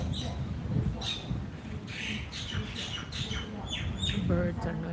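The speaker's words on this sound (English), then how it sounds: "Birds are noisy." Birds call at a Hawaiian beach at Bellows Station, with repeated chirps and squawks scattered over steady ambient noise, fairly close and moderately loud.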